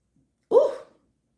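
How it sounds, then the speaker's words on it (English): A single short, low burp from one person, close and isolated, lasting under half a second against silence. "confirmation burp"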